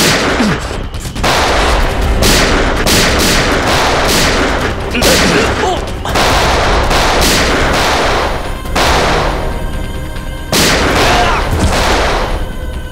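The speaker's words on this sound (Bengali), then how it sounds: "গুলিকে চালাচ্ছে" Rapid bursts of gunfire in a TV crime drama scene crack repeatedly over a dense, noisy background, loud and sustained with brief lulls between volleys.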